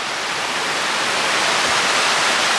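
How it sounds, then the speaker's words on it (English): Water cascades down rock slabs into a natural pool in wild country, making a loud, continuous rushing roar close by with no voices. "we found this amazing water slide. It's cascading down the slabs."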